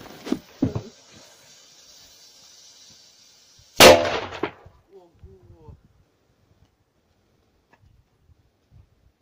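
Firecracker from the Pluton brand set off lying on its side: faint fizz of a fuse, then one loud close sharp bang with a short crackling tail, and quiet rustling afterwards.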